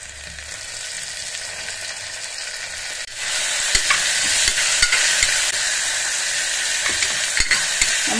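Tomato pieces fry in hot oil with a soft sizzle that jumps louder after a few seconds, broken by several sharp clacks of a spoon against the pan.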